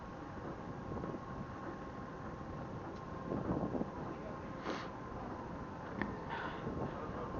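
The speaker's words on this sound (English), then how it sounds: "But at the moment it's just windy." Wind in Benidorm buffets a clip-on body camera microphone with a steady low rush and occasional gusty bumps, while a voice murmurs faintly underneath.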